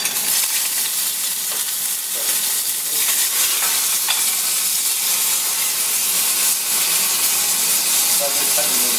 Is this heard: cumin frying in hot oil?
yes